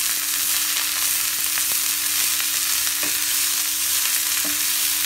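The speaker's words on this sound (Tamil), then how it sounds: "பூ போட்டு நல்லா ஃப்ரை பண்ணிக்கலாம்." Drumstick flowers fry in a pan with a steady, close, dense sizzle, broken now and then by brief clicks and scrapes of stirring.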